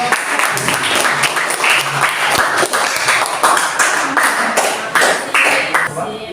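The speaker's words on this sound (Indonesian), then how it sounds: "tepuk tangan buat kelompok" A classroom audience applauds a presenting student group, dense sustained clapping throughout at fairly loud level, with a few thumps and some voices mixed in.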